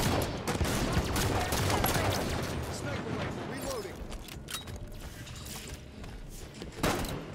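Gunfire and explosions in a Halo capture-the-flag match, with beam rifle and DMR fire, heard as a dense, continuous barrage with a sharp shot near the end while a player talks over it.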